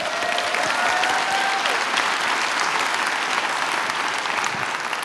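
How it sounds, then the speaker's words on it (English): Loud, full audience applause at a workplace manager event, many people clapping in a thick sustained roar, with a brief whistle-like tone near the start. "let's give Enloe a big round of applause"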